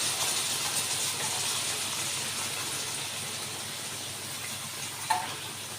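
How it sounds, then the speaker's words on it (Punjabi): Hot water poured into roasted potatoes in a hot pan for dum aloo gravy gives a loud, steady sizzling hiss throughout, with a brief clink of utensil near the end. "ਹੁਣ ਆਪਾਂ ਗ੍ਰੇਵੀ ਲਈ ਇਸ ਵਿੱਚ ਪਾਣੀ ਪਾਵਾਂਗੇ ਜਿਹੜਾ ਪਾਣੀ ਆਪਾਂ ਉਹ ਗਰਮ ਕਰਕੇ ਪਾਣਾ ਹੈ"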